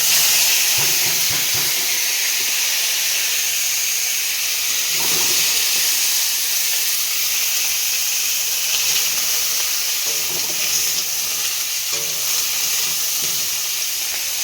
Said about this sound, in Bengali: এবার ফুলকপি আলুগুলো ভেজে নেব।